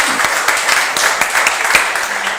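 Clapping from an audience at a book presentation, a fairly loud, close round of many hands with sharp individual claps standing out in an irregular patter.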